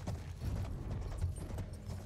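Horse hooves clip-clopping in the video game Battlefield 1, a quick uneven series of soft dull thuds and knocks, fairly close and low, with no talking.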